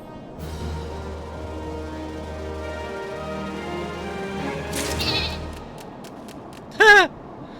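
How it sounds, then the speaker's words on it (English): A sheep mount bleats in Final Fantasy XIV, one short wavering bleat near the end after a stretch of low droning game ambience and a brief whooshing effect. "I didn't realize there was a sheep mount."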